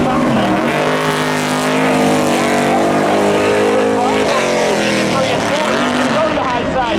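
Race cars roar as a pack at Seekonk Speedway, taking the green flag and diving into turn one with a sustained, loud engine drone. An announcer talks throughout.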